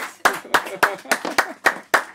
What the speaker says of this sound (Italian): un altro applauso a Brunella